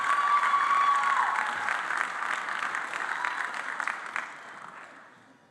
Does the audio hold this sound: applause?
yes